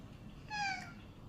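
A human voice imitates a cat with a single short, high, tonal meow, heard alone against quiet room background.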